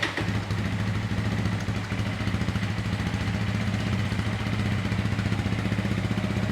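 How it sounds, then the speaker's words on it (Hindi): A 2024 Hi-Speed Cyclone 250cc RA2 EFI motorcycle runs at a steady idle, its exhaust giving a close, loud, even thumping putter with light mechanical clatter throughout. "मैं आपको इसको स्टार्ट करके एग्जॉस्ट नोट भी सुना देता हूँ।"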